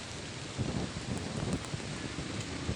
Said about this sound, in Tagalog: Inabot na tayong ulan.